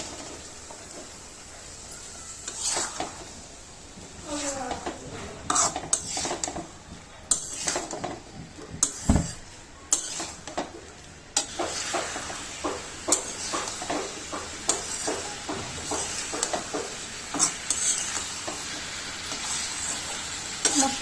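Taro stolons are stirred into spice paste frying in a pan for a Bangladeshi taro stolon and hilsa dish, with continuous sizzling under repeated scraping and clattering strokes of a spatula against the pan, close up and with no talk.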